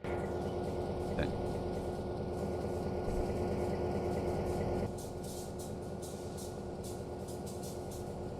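Steady low rumble and rolling drone of a coal train running downgrade in the Trainz rail simulator, continuous and fairly faint, easing slightly partway through, with no talk.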